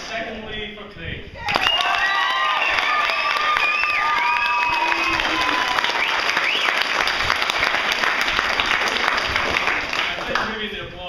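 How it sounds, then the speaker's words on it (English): Large youth workers conference show crowd bursting into applause and cheering for Craig: dense, sustained clapping with excited shouts and whoops mixed in, loud and continuous after a brief quieter start, easing slightly at the end. "The applause, Craig picked it"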